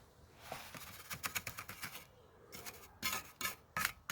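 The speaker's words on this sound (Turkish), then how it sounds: "Malamızla harcımızı alıyoruz" A steel trowel scoops and scrapes mortar while a camellia-pattern floor is being laid, giving a series of close, gritty rasping strokes in uneven bursts with short pauses between.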